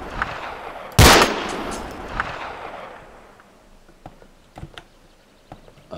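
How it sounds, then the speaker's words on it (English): A single loud, sharp gunshot in Arma 2 cracks and rolls away in a long fading echo, followed by a few faint distant pops. "I'm going to take a shot."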